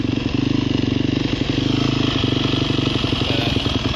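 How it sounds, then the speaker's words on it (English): A cold 2009 Yamaha YZ250F dirt bike, choke just pulled off, idles steadily at a low, even rhythm, its close four-stroke putter loud and continuous with no talk. "Let it warm up here for a minute. You hear super nice, super low idle."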